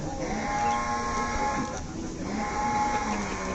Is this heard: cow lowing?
yes